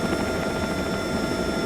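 A Bell helicopter flies in the X-Plane 12 simulator, its rotor and turbine producing a steady, dense whirring roar that stays constant throughout.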